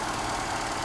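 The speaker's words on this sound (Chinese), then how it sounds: "怠速" Steady, close idle of a Mercedes W123 230E petrol engine, a continuous low rumble and hum with no speech.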